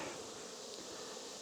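Honey bees in an opened hive give a steady, even buzz that holds unbroken and fairly close.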